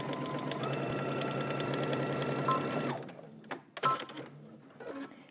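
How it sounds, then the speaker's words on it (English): A sewing machine stitches a 5/8-inch seam on a garment, a steady close mechanical whir lasting about three seconds before stopping, followed by a few faint handling clicks and rustles. "we're gonna head to the sewing machine and stitch using 5/8 of an inch seam allowance"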